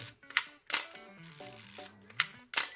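Nikon FM2 film camera being worked by hand: several sharp mechanical shutter clicks, a short broadband burst at each release, with the winding lever's ratcheting strokes between them, close and fairly quiet, with no talking.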